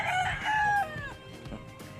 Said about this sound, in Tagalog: Ang daming manok ni tita mo